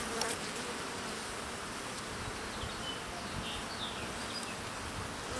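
A dense, steady buzz of many honeybees in an open hive close around, constant and unbroken with no voices.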